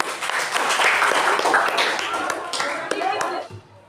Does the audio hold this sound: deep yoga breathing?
no